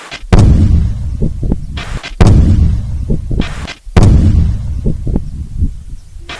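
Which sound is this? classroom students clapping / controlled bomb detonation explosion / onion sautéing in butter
controlled bomb detonation explosion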